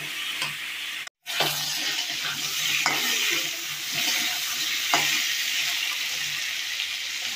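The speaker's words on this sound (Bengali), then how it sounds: "আস্তে আস্তে করে আলুগুলোকে ভেজে নেবো।" Salted potato pieces with a little turmeric fry in a pan, giving a continuous bright sizzle broken by a few stirring scrapes and one brief dropout, close and with no voices.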